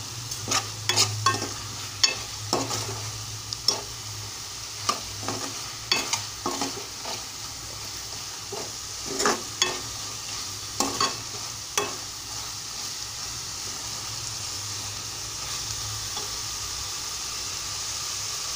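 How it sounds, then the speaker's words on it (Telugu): Vegetable pieces coated in chilli powder and ginger garlic paste frying in a pan, a steady low sizzle broken by repeated scraping stirs, dense at first and fading to a quieter hiss toward the end. "తర్వాత ఈ ముక్కలన్నిటికీ పట్టించేసి వేయించుకోవాలి."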